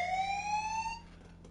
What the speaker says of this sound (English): Someone sounded the ancient Japanese alarms!